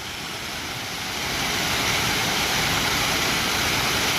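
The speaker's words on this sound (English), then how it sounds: "Oh, it's just tons of water." Mountain stream in Andorra rushing with heavy, steady water flow, a loud, continuous broadband roar that swells slightly after the first second and holds close and constant.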